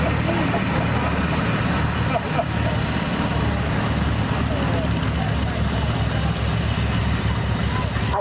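A 1957 Mercer model 620 antique tractor engine runs steadily in a tractor show parade, a loud continuous rumble with an announcer's voice talking over it.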